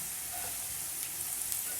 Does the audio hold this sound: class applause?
no